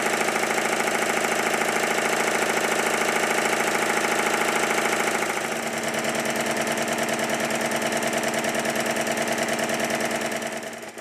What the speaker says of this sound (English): you can clearly see the other triple expansion engine that I have built by Ronnie Mall, which runs very well in both